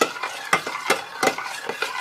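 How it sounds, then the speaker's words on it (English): Cheese being stirred into buttered macaroni in a pot, a close series of rhythmic scraping and squelching strokes about every third of a second, with no talking. "I'm just going to start throwing some of the cheese in and mix them in."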